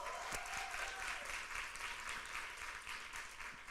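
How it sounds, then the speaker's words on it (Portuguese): An audience at a women's church gathering claps steadily in applause for a participant, a soft, continuous patter heard somewhat distantly and at low level throughout. "Gente, palmas para a Carol."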